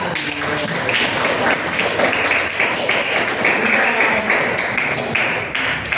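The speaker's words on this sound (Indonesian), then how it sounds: "Betul, tepuk tangan." A class of students clapping together in a classroom, brisk and fairly loud, with voices mixed into the clapping throughout.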